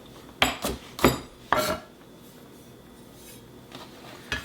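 A knife roughly chopping ginger into small pieces on a board, a few sharp close knocks in quick succession, then a pause and two fainter taps.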